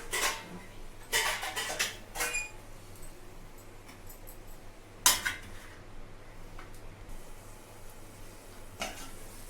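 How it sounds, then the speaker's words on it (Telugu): Egg pieces go into a pan of masala curry with a few clattering knocks and scrapes of a utensil against the pan, set over a low steady background hum and heard without talk. "ఆ పీసెస్ వేసేసుకుంటాను"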